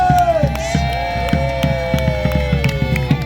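Spectators at a castle history festival cheer for costumed Elizabethan musicians, loud crowd shouts over a steady, regularly pulsing beat and droning tones that carry through.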